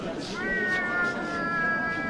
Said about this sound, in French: c'est un chat bengale